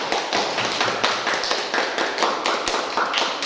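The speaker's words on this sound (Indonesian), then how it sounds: "berikan tepuk tangan untuk kelompok 2." Participants in a group training workshop clap for a team, a steady patter of many hands striking in a loose rhythm, fairly close and sustained for several seconds with no talking over it.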